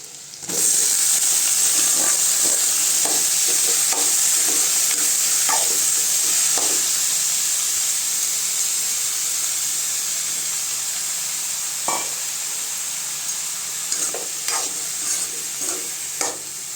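Grated bottle gourd and softened onions sizzle steadily in a hot pan for a Tamil-style poriyal, with a constant bright hiss and scattered scraping stirs of a spoon throughout.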